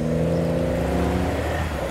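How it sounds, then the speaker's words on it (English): A Porsche 997 Carrera S pulling away from a business-park roundabout, its engine loud and close with a steady droning tone that starts to rise and break up as it leaves. "as the 997 Carrera S leaves"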